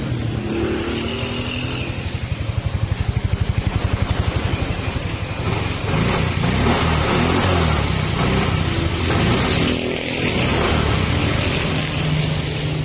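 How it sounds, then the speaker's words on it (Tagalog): A motorcycle engine running hot, idling high with a smoking exhaust and a rattling note. It drones steadily and loudly close by for the whole stretch, with no voices. "makalansing na rin yung makina"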